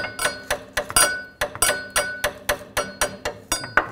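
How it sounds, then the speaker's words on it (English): Rapid metallic hammer taps on a brake line of a 2000-06 GMC Yukon ring out in a steady series, about three per second, each with a short bright clink and brief decay. "you can just give it a couple taps with a hammer."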